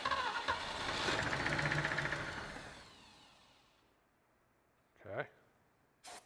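A Ford engine cranks again with a loud, rough churning that gradually weakens and fades out, followed by a brief louder burst and a short noise near the end.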